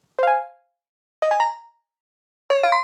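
Three bright, buzzy saw-wave synth plucks, each a short harmonic burst that decays quickly, spaced about a second apart with silence between.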